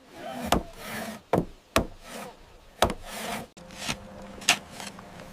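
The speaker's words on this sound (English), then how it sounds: "White House timber is shaped into beams using pit saws and axes." Timber is worked into beams by hand with pit saws and axes. Several sharp woody strikes and rasping strokes come at an irregular rhythm, close and moderately loud, with no voices.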